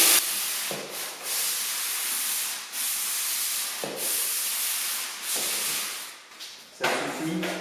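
Drywall plasterboard wall being sanded by hand, working into a corner: steady, rhythmic abrasive scraping strokes with a loud hissing rasp, broken by brief pauses between passes.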